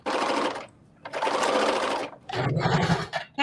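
A serger sewing machine stitching a cream dress, running in three close, loud whirring bursts separated by short pauses, with no talk.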